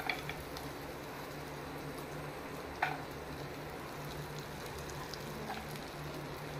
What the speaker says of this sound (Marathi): बटर मेल्ट जालें की मागीर हांव तातूंत घालतलें लसूण